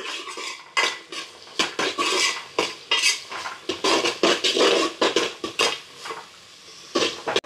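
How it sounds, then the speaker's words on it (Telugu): Vegetables frying in ghee in a pan, stirred vigorously with a metal spoon. Repeated scraping and clanking strokes come in a steady rhythm over a soft sizzle. "సో వెజిటేబుల్స్ అన్నీ వేసేసి మంచిగా కలిపేసుకోవాలి."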